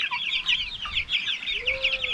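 Black-meat silkie chickens cluck and chatter continuously in a backyard flock, a dense stream of overlapping high calls, close and steady, with one longer drawn-out note near the end.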